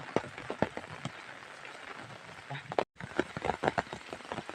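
Rain falls outdoors with a dense patter of drops and irregular splashes, close and fairly loud, with a brief drop-out midway and voices faintly present.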